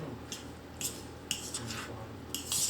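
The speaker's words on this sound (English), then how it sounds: "that mixed pretty good with a fork" A fork mixing crumble topping for a skillet pumpkin crisp, producing soft irregular scrapes and light metallic clinks against the bowl, close and fairly quiet, several taps spread across a few seconds with no voices.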